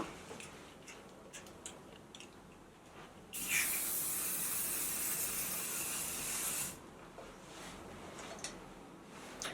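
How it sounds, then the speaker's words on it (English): Hairspray hisses from a can onto styled wavy hair in one continuous close spray lasting about three seconds, surrounded by quiet rustling and faint ticking handling sounds before and after. "So I'm gonna go in with a little bit of hairspray."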